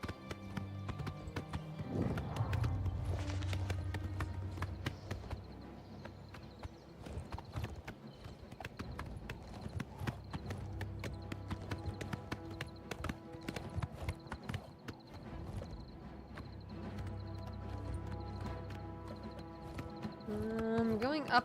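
A horse's hooves clip-clop in a steady galloping rhythm in the video game Oblivion Remastered, with a short whinny early on, over game music, while a person talks throughout.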